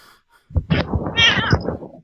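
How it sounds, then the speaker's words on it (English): A house cat meows loudly and close by in a short drawn-out call with a rising, wavering pitch, standing alone after a brief quiet moment. "Whoa. There's a cat."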